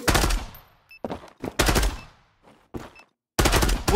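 Bursts of automatic gunfire from the online shooter Zula, loud and close, coming in several separate volleys with short gaps between them and no talking over them.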